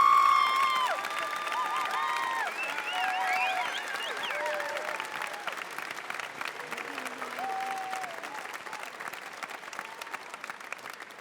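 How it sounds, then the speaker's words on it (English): An audience at a university undergraduate commencement applauds graduating students, continuous, fairly distant clapping sustained throughout, with tonal music or voices drifting above it. "we should applaud these students."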